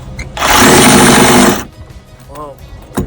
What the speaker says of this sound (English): he's gonna sawzall that band or this joist off of that band